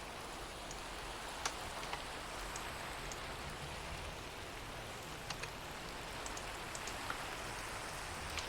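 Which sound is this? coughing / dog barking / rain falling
rain falling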